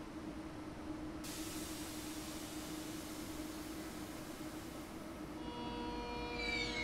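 An ICE 3 train in Train Sim World 3 runs with a steady, loud rushing hiss and low rumble, a brighter whine layering on near the end, with no voices.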